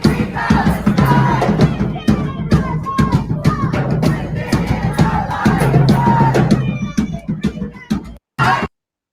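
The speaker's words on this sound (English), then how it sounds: "You can see the crowd waiting for Chris." Crowd at JFK Airport cheering and chanting while waiting for Chris Smalls, loud rhythmic shouts with claps and knocks, ending abruptly after a brief final burst.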